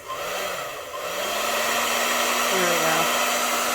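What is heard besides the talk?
hair dryer running on low setting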